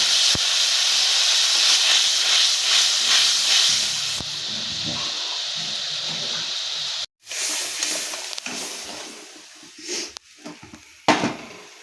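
Water boils hard in a pan of Bengali fish curry (bhola fish jhal) after the spice masala has been fried, giving a steady close hiss and bubbling that briefly cuts out, then returns with a few sharp clinks.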